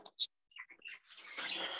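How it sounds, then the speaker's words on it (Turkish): A few short, high chirps at the start, then a faint hissy rustle, quiet and fairly close. "o kuş sesi geliyor."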